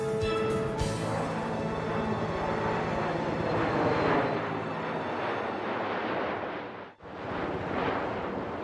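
A cargo plane comes in fast to land, a loud, continuous broadband roar of engines and rushing air that holds steady throughout with a brief dip near the end.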